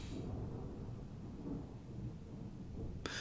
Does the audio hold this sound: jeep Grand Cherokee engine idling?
no